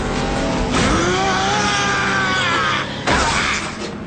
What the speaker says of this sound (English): the red sports car that just flew by was Skybite